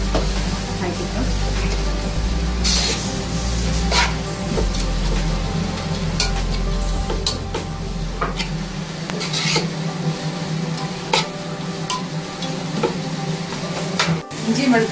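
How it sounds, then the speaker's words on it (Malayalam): Sliced onions sautéing in a pan for mutton masala, a steady sizzle with frequent scraping stirs of the spatula, a low hum fading midway. "ആദ്യം സവാള വഴറ്റുന്നു"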